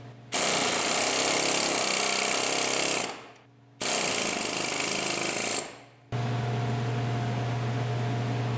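Two long bursts of loud, rapid air-hammer pounding on a Toyota 4Runner intermediate steering shaft, each about three seconds, separated by a short pause, then a steady mechanical hum.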